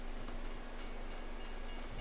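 A train rolls past in a video game with a steady, loud rumble and rattle throughout, with no talk.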